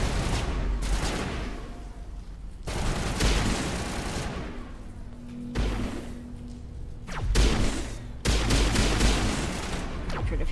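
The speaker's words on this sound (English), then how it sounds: "it's a sniper, that's why" Sniper rifle fire in Mass Effect, loud cracking shots in repeated bursts with dense, sustained gunfire and booming impacts between them, carrying on throughout.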